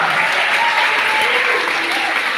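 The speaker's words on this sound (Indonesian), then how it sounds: "Boleh tepuk tangan yang meriah." Lively audience applause inside an Islamic history museum, a brief dense burst of many people clapping together at close range.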